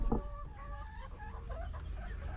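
Several hens clucking softly nearby around a nest box, a run of short, pitched calls over low background noise.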